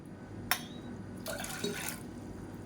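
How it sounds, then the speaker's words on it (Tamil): Water is poured into a saucepan for kollu and curry leaf soup, a brief splash followed by a longer steady pour and faint dripping, quiet and close with no talk. "இதில் வந்து ரெண்டு டம்ளருக்கு தண்ணி ஊற்றிக்கலாம்"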